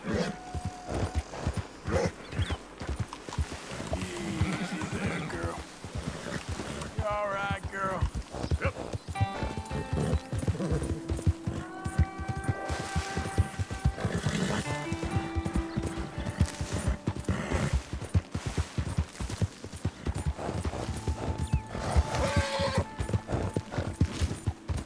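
Horse hooves gallop in Red Dead Redemption 2, a rapid, rhythmic clip-clop running throughout with occasional whinnies and game music, while a commentator talks over the top.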